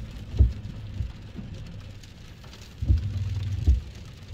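Rain falls steadily on a car parked at a winter campsite in Georgia, a soft continuous patter with a few louder low thumps of drops or gusts against the vehicle.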